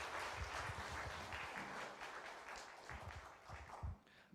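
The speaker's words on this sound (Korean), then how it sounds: "박수로 환영하십시다" A church congregation at a Sunday morning worship service applauds in welcome, a soft, steady wash of clapping that holds for several seconds before tapering off.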